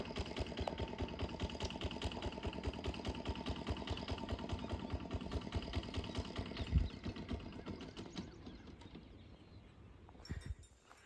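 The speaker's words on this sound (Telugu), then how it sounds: "ఓ పడవ వెళ్తుంది, మీకు సౌండ్ వినిపిస్తుంది మోటార్ది." A motorized fishing boat passing along the Krishna River at Puligadda chugs with a steady rapid rhythmic engine putter that stays fairly even, then fades toward the end, with faint birds in the background and no talking.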